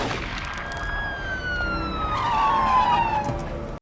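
A police car siren wails steadily as backup officers arrive at a scene, loud and near, its pitch sweeping smoothly up and down with a slight rise in volume toward the end.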